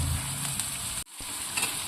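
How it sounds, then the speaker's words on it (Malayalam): Green chillies and onions frying together in a pan for Kerala-style ginger pickle, a steady close sizzle with light stirring, briefly interrupted by a short gap before the hiss resumes. "രണ്ടും കൂടെ നല്ലതുപോലെ ഫ്രൈ ചെയ്തെടുക്കാം"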